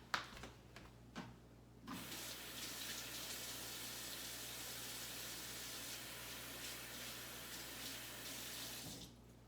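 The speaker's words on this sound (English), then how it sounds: "Just gonna wash my hands." A kitchen tap runs steadily for several seconds as hands are washed under it, a continuous splashing rush of water after a few brief handling knocks, stopping abruptly near the end.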